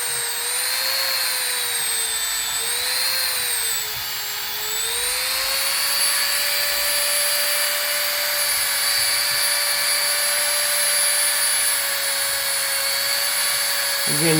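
A rotary polishing wheel works the metal of a Gforce RPX9 trigger with a loud, steady, high whine. Its pitch dips and wavers briefly under load, then holds level.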